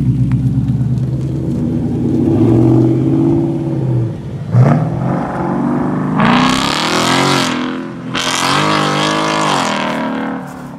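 A 2020 Ford Mustang GT with a Pypes exhaust idles and rumbles in the distance. It then sweeps past outdoors with two loud, rising revs as it accelerates, with wind noise throughout.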